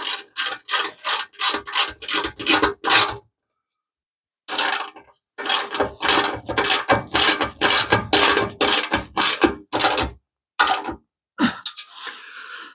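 A ratchet tightens a front bumper bolt on a hemi Plymouth Duster. Close, crisp bursts of rapid clicking stop briefly, then resume in longer runs, with a short scrape at the end.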